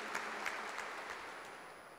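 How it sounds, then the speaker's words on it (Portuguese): A church congregation claps during a Tuesday homily service, a steady wash of broadband applause that holds evenly from start to finish at moderate loudness, with no voice standing out. "Mais forte, uma salva de palmas para a palavra de Deus"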